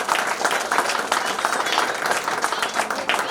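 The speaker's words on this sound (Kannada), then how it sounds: "ಅವ್ರಿಗೆ ಇನ್ನೊಂದು ಚಪ್ಪಾಳೆ ಬರಲಿ ನಿಮ್ಮ ಕಡೆ" An audience at a preschool annual day claps steadily, a dense, continuous patter of many hands filling the hall.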